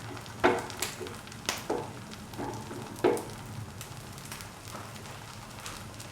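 An omelette with curry leaves cooks in a pan with a faint, steady sizzle, broken by a few soft clicks and taps of the pan or utensil.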